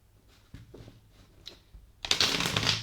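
Tarot cards get handled with a few soft taps and slides, then a quick, bright riffling burst toward the end, close and fairly quiet.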